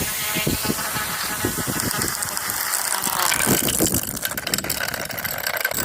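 A fast-spinning wheeled contraption driven by a Dremel rotary tool, outdoors in freezing weather: a continuous loud, close whirring and rattling motor drone with scraping and clattering, steady throughout with no voices.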